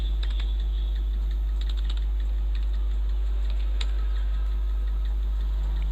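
Someone is typing on a computer keyboard to enter names into accounting software. The key clicks come in sparse, irregular bursts over a low steady hum, with no talk.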